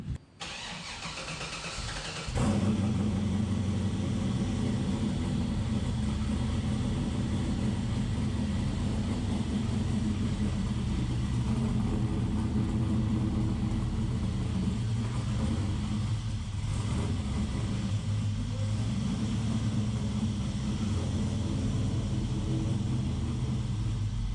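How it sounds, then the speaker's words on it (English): A 600 hp LS-swapped G-body Chevrolet Malibu V8 cranks briefly on the starter, then catches and settles into a loud, steady, rumbling cold idle that continues without any talking. "Let's do a cold start first."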